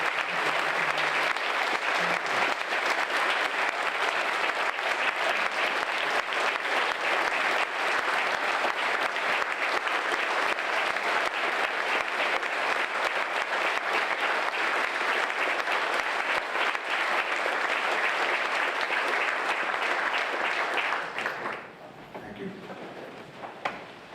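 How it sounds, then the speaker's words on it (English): A forum audience gives the speakers a long round of applause, dense and sustained for about twenty seconds before tapering off abruptly into near quiet with faint room noise. "please applaud them again"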